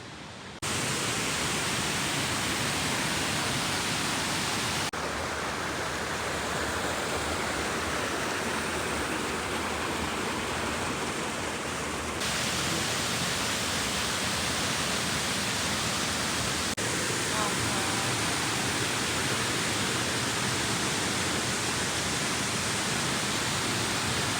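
Steady, dense rushing of falling water fills the scene continuously, loud and close, with no voices.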